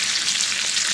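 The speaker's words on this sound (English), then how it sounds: "Sizzling." Chicken frying on low heat in a pan, a dense, steady crackling sizzle close up, with no voices.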